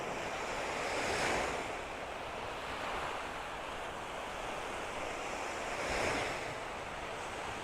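Sea waves on a Greek coast roll in from two directions, a steady wash of surf that swells twice into a louder rushing break, with wind noise throughout.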